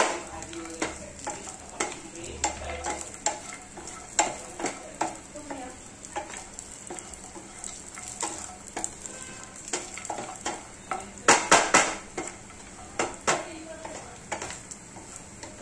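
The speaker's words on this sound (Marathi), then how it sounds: "आता हे काजू बदाम आहे ना तुपामध्ये भाजून घ्यायचे।" Cashews and almonds roast in ghee in a pan for rice kheer, a soft sizzle running under repeated scraping and stirring strokes, with a few brief clinks of a spoon against the metal.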